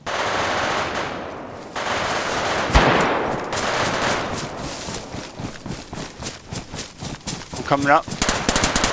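Rapid bursts of gunfire in a shooter video game, repeated sharp shots crackling through the whole stretch, loud and close, with a voice talking over them.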